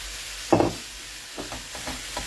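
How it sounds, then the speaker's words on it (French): Meat browns in a frying pan, a sharp sizzle flaring at first, then softer intermittent crackles and stirring scrapes, close and alone. "Donc là, je vais faire revenir ma viande aussi."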